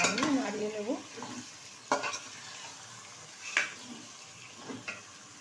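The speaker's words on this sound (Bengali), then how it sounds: "এখন ভালোভাবে আমি নাড়িয়ে নেব।" Chicken stirred in a pan with goat fat, a low sizzle under several distinct scrapes and clinks of a spoon against the pan, spaced a second or two apart.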